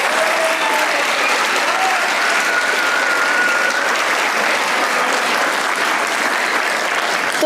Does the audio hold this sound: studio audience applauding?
yes